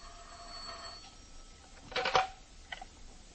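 An old-fashioned telephone bell rings while a call goes through to an apartment, giving a short, loud burst of ringing over a faint steady hum, with a softer ring following moments later.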